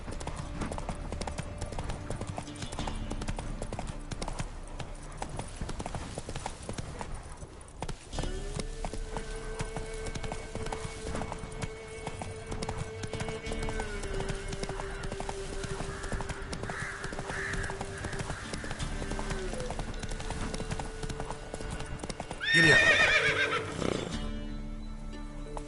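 Horse hooves clip-clop steadily in The Witcher 3, with whinnying and a loud neigh near the end, set against continuous game ambience and music.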